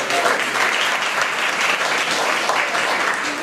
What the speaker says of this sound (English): Parents, give yourselves a round of applause.